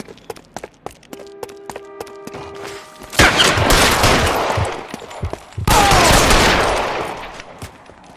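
Loud bursts of rapid gunfire erupt in a police shootout in the 1940s Los Angeles crime game L.A. Noire, two sustained volleys following a stretch of scattered shots and a held tone.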